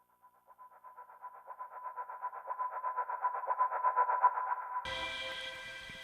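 A heavily pitched-down synth layer in Ableton, a low pulsing, wobbling tone that swells steadily louder for several seconds before cutting into a brighter, buzzy, distorted texture; close and alone with no talk.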